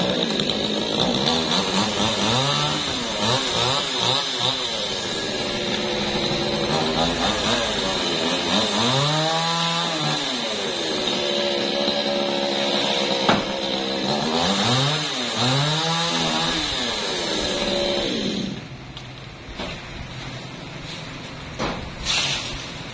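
A chainsaw cuts through a large, century-old Barringtonia tree, its engine loud and close with repeated rising and falling revs as the blade bites and eases off, then dropping away near the end.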